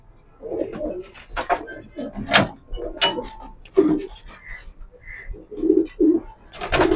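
Racing pigeons at a loft coo repeatedly in soft, throaty bursts, some close and clear, with someone talking over and between the calls.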